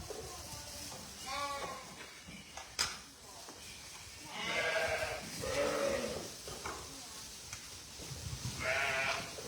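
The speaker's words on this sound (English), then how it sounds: "Don't want to scupper David's sheep gathering." Sheep being gathered on a farm, with several bleats from the flock at moderate distance, rising and falling in bursts, with occasional soft background noise.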